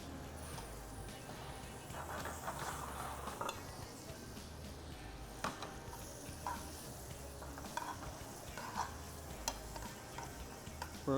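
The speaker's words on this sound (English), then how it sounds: "We're gonna cook that bacon down and let it render some of the fat." Bacon rendering in a pan as the base for oyster stew, giving a steady low sizzle with occasional stirring scrapes and soft clicks close by, no talking.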